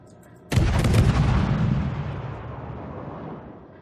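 The guns of the cruiser HMS Hawkins firing in World of Warships: a single loud, close broadside blast that booms and rumbles away over about three seconds.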